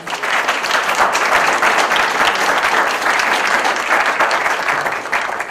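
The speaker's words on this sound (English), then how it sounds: "Please give Barb a round of applause." A forum audience claps loudly and steadily for a speaker. The dense applause runs without pause for about five seconds before it starts to thin, and a faint voice shows through.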